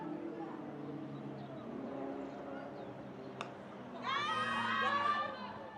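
A crowd at a cricket ground during a one-day Pro50 match shouts and cheers, a murmuring mass that rises into a louder burst of high screams near the end, with a commentator talking over it.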